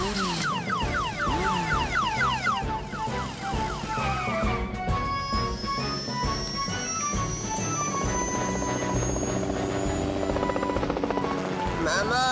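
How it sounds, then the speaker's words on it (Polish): A helicopter in a Fireman Sam cartoon whirs under a busy animated soundtrack, with rotor chatter mixed into music and effects, a rising whistle partway through, steady and fairly loud throughout. "Zawiadomię Toma, niech weźmie helikopter"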